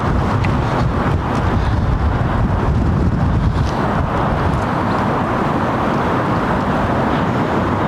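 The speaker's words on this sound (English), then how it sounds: "you probably hear that the wind is blustery" Blustery wind buffeting the microphone at an airport runway viewing spot, a steady loud rumbling roar without letup throughout.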